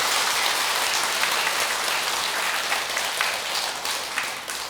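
Sustained, dense clapping from a temple congregation at a Buddhist New Year Guanyin prayer opening service, steady and loud for the whole stretch with no pause.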